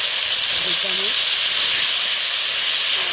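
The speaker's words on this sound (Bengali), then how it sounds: "তা আমি আদা, রসুন, কাঁচা লঙ্কা, ধনে পাতার পেস্টটা দিয়ে দিলাম" A paste of ginger, garlic, green chilli and coriander leaves sizzles in hot oil with onions in a pan, a loud steady frying hiss that continues throughout, with faint bits of a voice over it.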